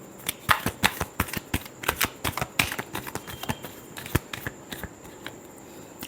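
Tarot cards shuffled by hand in a quick run of crisp riffling snaps and flutters, close and fairly loud, with no talking.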